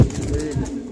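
A pigeon from a breeding pair for sale gives a brief, low, close coo lasting under a second.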